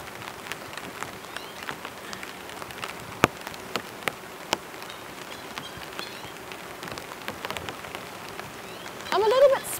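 Autumn rain falling on a camping tent, tarp and gear, a dense steady patter of drops with sharper individual taps, close by, with a brief rustle of movement near the end.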